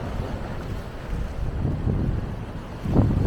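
Strong wind buffets the microphone on the Paphos seafront in Cyprus while rough sea surges nearby, a dense continuous roar with heavier gusts swelling toward the end.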